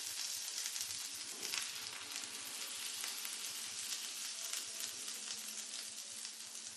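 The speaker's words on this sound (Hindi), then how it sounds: "दोबारा से हम तवे पर मक्खन डालेंगे या फिर आप घी भी डाल सकते हैं" A piece of flour-free, bread-free sandwich sizzles steadily in melted butter on a hot tawa over low flame, a dense, continuous frying crackle with no voices.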